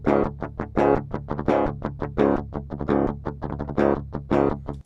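A dry DI electric guitar signal with no amp tone picks a fast, clipped metal riff of short separate notes, thin and close, with nothing else heard.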